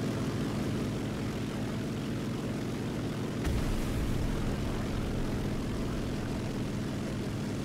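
Propeller fighter planes, a P-47 and a Bf 109 in War Thunder air combat, drone with a steady roaring engine hum that swells briefly midway, loud and continuous with no talk.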